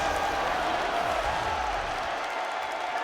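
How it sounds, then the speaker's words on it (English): A tournament crowd at a Street Fighter 6 finish roars and cheers as a dense, sustained wash of voices and applause, loud and continuous throughout. "The crowd absolutely involved, absolutely erupting for that finish"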